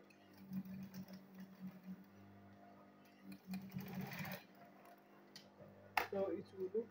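A sewing machine stitches a handbag in short, soft whirring bursts with pauses between, faint and close, while someone talks.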